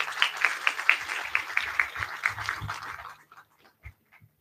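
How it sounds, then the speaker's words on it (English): Applause from an event audience for a presentation team, a cluster of distinct hand claps in loose rhythm that thins out after about three seconds, ending in a few scattered claps. "they deserve a round of applause"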